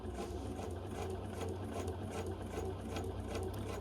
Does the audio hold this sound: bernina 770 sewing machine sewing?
yes